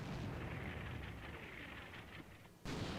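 A low, rumbling artillery barrage in the Combat Mission: Shock Force 2 video game rolls on continuously, faint and distant, with a louder thudding burst near the end.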